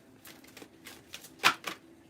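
Tarot cards are shuffled the long way in a quick series of soft riffling taps and flicks, one crisper snap standing out near the middle, close and fairly quiet.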